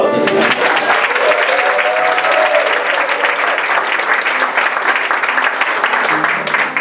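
A large audience applauds warmly for a dancer, a dense, steady wash of clapping that starts at full strength and holds loud and even throughout, with no talking over it.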